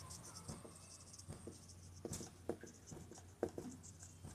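Pen strokes scratch across paper as equations are written by hand, quiet irregular taps and scrapes in short bursts against a faint hum.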